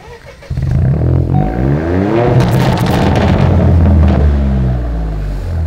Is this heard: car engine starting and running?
yes